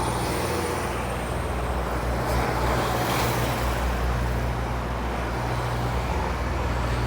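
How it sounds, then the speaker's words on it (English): Shuttle buses roll past at night on a midtown Toronto street near the Yonge Eglinton Centre, a steady, close engine and tyre rumble that fills the whole stretch without letting up. "Here goes a couple of shuttle buses."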